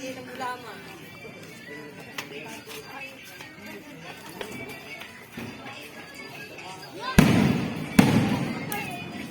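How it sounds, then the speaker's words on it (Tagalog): Sharp firework bangs burst out near the end, loud and close, after a stretch of crowd chatter and scattered pops, at a traditional Filipino fiesta for St. John the Baptist as a procession reaches the church. "Kaya may fireworks."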